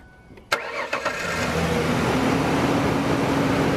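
A 2001 Ford Ranger engine cranks with a few sharp starter clicks, then catches and settles into a steady, close idle.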